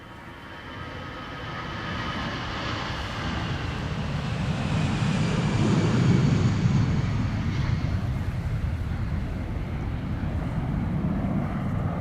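A Vueling Airbus A320 roars down Polderbaan runway 36L at Amsterdam Schiphol in rain showers, a broad low engine rumble swelling and holding steady alongside wind buffeting the microphone.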